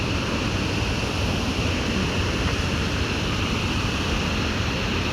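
A waterfall pours in an outdoor natural setting, producing a steady, dense rushing roar with no breaks, fairly close and uniform throughout.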